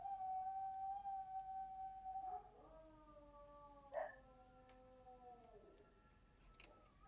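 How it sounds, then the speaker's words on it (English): Dogs howl at a passing fire truck siren, long sliding wails heard faintly from a distance in a quiet indoor setting, with a soft click partway through. "Yeah, I can hear them howling."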